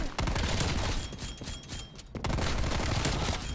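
A Stoner 63 machine gun in Call of Duty Cold War fires in long, rapid bursts with a brief dip near the middle before the heavy fire resumes.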